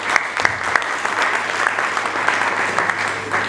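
Steady audience applause at a wedding and events fair in Mbuji-Mayi, a dense wash of clapping with a few sharper claps near the start, holding level throughout.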